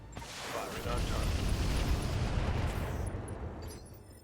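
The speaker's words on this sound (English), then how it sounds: "Firing on target." Weapons firing on a target in the mech game RogueTech (BattleTech), a single long rumbling blast that swells and slowly fades.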